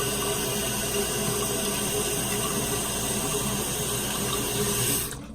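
Steady hissing rush of water as a toilet tank refills after fitting a Korky universal flapper, constant and close before cutting off sharply near the end.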